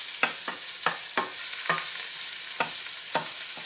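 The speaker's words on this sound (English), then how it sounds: "Saute your garlic very well" Garlic sautés in grapeseed oil with a steady bright sizzle, and a utensil stirs it with repeated short scraping strokes at a fairly regular pace.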